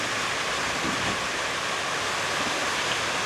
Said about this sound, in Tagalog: Bumaba na yung tubig pero yung ulan lumakas na naman.